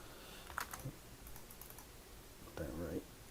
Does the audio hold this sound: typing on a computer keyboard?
yes